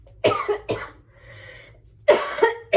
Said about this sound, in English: I have been coughing like crazy